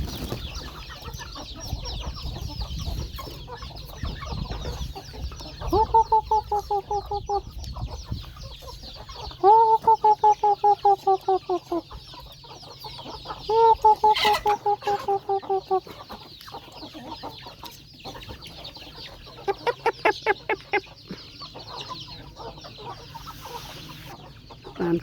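Chickens cluck in repeated short bursts, fairly close, over a low rustling background, with a few sharp rapid clucking runs.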